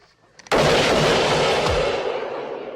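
A video game sniper rifle fires one sharp, loud shot. A long echoing tail follows it, after a faint click just before.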